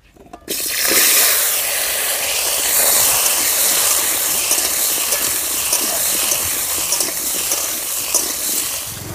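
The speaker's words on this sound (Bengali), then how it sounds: "ডিম ভাজা তেলের মধ্যে এবার আলুগুলো ভেজে নেব।" Potatoes dropped into leftover oil from frying duck eggs, in a village-style home kitchen, bursting into a loud, continuous hissing sizzle after a brief quiet start, steady throughout with no talk.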